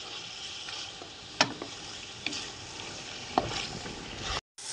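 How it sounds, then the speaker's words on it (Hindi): Mutton with ginger and garlic paste frying in a pan, a steady close sizzle with a few sharp spits and pops, and no talking. "इसको हम 2 मिनट तक अच्छे तरीके से भून लेंगे ताकि अदरक लहसुन की स्मेल दूर"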